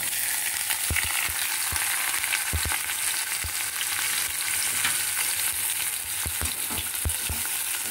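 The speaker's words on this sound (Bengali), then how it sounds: "কালো জিরাগুলো ভাজা ভাজা যখন একটু একটু হয়ে যাবে তখন আমি দেব পেঁয়াজটা।" Nigella seeds and onion sizzle steadily in hot oil in a home kitchen, a dense close hiss broken by sharp scattered crackles and spatters, with no talking.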